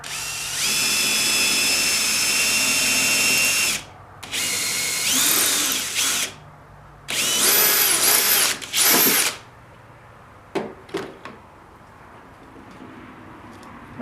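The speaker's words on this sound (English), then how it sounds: "Now I'm going to take the drill down through here" A power drill whirs loudly in several bursts of a few seconds each while building a pull-behind camper, separated by pauses, followed by a few short clicks and taps near the end.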